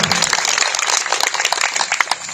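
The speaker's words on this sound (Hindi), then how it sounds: "एक बार मोदी जी के लिए जोरदार ताली हो।" Dense, loud crowd clapping at a political speech event, a continuous wash of many hands at close range with no clear gaps for about two seconds.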